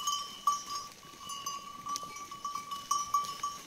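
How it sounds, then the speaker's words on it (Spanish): Goats grazing and chewing on a farm alongside chickens, a steady soft rustle of munching and cropping with occasional louder bumps, moderately distant with a faint high ringing tone running throughout. "solo veo cabras comiendo, masticando"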